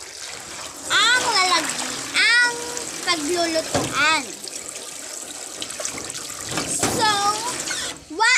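Rice grains are washed in water, with splashing and trickling sounds that come and go beneath someone speaking.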